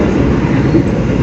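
A Logawa passenger train on the Purwokerto–Jember route rumbles loud and close, a dense continuous roar of rolling wheels and carriage noise with no voices.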